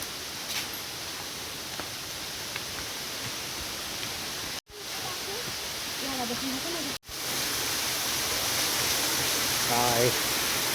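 A waterfall's steady, even rush of falling water fills the scene, interrupted by two short cuts, with faint voices briefly rising over the noise in the latter half.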